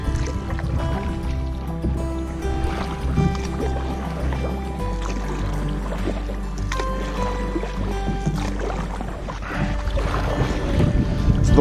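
A canoe is paddled across Dunlop Lake in Blind River Provincial Park, with soft splashes and knocks over a low rumble of wind against the microphone.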